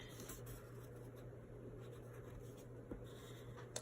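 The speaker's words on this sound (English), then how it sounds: "So I'm just tracing around with a pencil" A pencil traces around a paper template for a pillow box craft, giving a faint, steady scratchy scraping close by, continuous with no talking.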